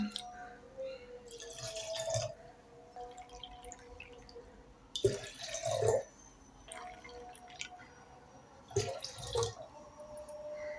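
Water is poured from a cup into a small pot of curd to make buttermilk, three separate splashing pours with quieter trickles and drips between them, close by.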